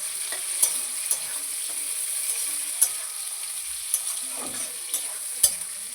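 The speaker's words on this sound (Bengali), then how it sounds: "একটু লাল লাল করে ভেজে নেব হালকা ব্রাউন পেলেই হবে" Onions cut into large chunks frying in a pan for home-style chili paneer, a steady close sizzle broken by several sharp stir clinks and scrapes, with no talk.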